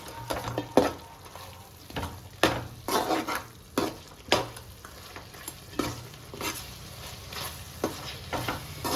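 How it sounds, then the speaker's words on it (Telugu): Chicken curry with chili powder is stirred in a hot pan, with rhythmic scraping strokes of a spoon against the metal over a soft, steady sizzle, close and fairly loud. "నేను ఇంకొంచెం కారం వేసుకుంటున్నాను వేసుకొని దీన్ని బాగా కలుపుకోండి"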